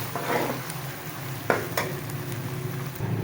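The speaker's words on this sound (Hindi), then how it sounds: "ये हमारा अदरक लहसुन भी भून चुका है अच्छे तरीके से" Ginger garlic paste frying in a pan while being stirred, a steady soft sizzle with a few sharp scrapes of the spoon against the metal, close and alone with no voices.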